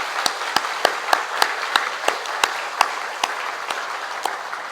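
A church congregation claps together in a steady, even beat, the sharp claps repeating about three times a second over a soft background hum.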